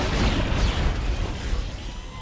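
Mines detonating in Dead Space give a dense, roaring blast that fills the whole moment, loud and close with a sustained rumbling crackle and no pause.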